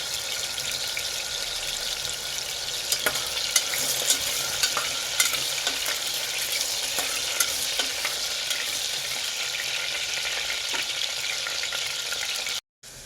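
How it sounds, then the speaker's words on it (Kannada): Potatoes for Punjabi-style dum aloo shallow frying in oil until golden brown: a steady, dense sizzle with scattered clicks and taps of stirring, cutting off abruptly near the end. "ಗೋಲ್ಡನ್ ಬ್ರೌನ್ ಕಲರ್ ಬರೋವರೆಗೂ ಶಾಲೋ ಫ್ರೈ ಮಾಡ್ಕೊಳ್ಳೋಣ"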